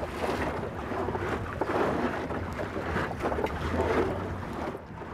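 A Vietnamese basket boat being hand-rowed at sea off Mui Ne in strong wind and waves: a steady, broad rush of wind and water sloshing close by, with no talking.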